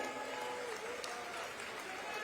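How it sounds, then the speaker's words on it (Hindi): Applause from a large outdoor farmers' and workers' rally crowd in Chhattisgarh, a steady, dense wash of clapping that is fairly distant and continuous throughout, with crowd murmur mixed in. "एक गांव जोरदार ताली हो जाए"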